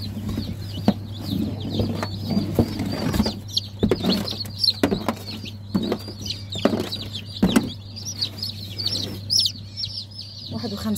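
Hybrid baladi and Fayoumi chicks peeping in a crowded brood, dense high chirps overlapping continuously with louder chicken clucks and bursts, close and busy.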